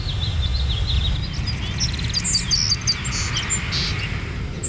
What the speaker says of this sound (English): When I get to the bird sanctuary, it's always a time for me to stop and reflect and listen.